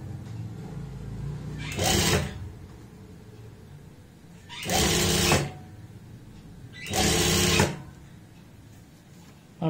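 A sewing machine stitches a strip onto a blouse, running in three short, separate bursts with quiet pauses between them.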